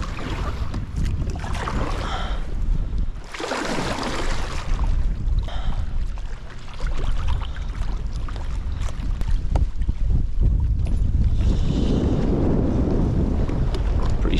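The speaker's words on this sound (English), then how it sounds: "Strong wind." Strong storm wind buffets the microphone on an Old Town Sportsman 106 pedal kayak, a loud continuous roar with gusty surges and water sloshing around the hull, with no voices.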